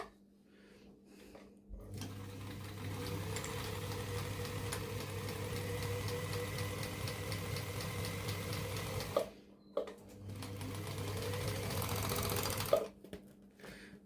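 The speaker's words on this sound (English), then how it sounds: "through our machine until the new threads have run all the way through." An overlocker sewing machine runs steadily with a fast mechanical whir as new looper threads are pulled through, starting after a short quiet lead-in, pausing briefly, then running again, close and loud with no talking.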